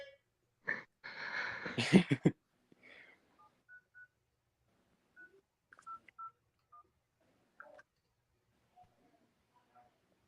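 Several short telephone keypad tones sound one after another with irregular gaps as a number is dialed on a call to a customer service line, following a brief loud burst of voice at the start.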